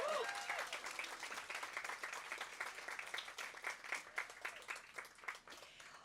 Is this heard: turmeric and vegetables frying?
no